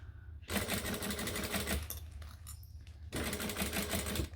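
A sewing machine runs steadily, stitching two fabric layers of a bag together, with a brief pause midway before resuming at a constant buzzing pace.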